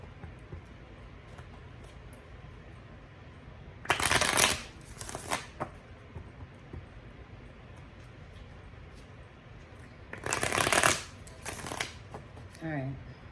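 Two bursts of tarot cards being shuffled, one around four seconds in and another near ten, each lasting over a second with crisp riffling, set against quiet room tone.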